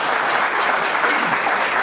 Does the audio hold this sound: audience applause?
yes